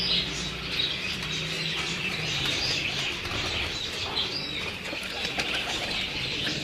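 Red-eyed pigeons in a loft in Kasur coo softly and continuously, with light wing flutters and occasional chirps, a steady moderate murmur of birds with no one talking.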